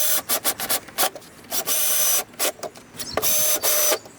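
A power drill on a light torque setting drives screws fitted with washers into thin wood for a kids' book bin, giving a series of short whirring bursts with a couple of longer runs and brief pauses between them.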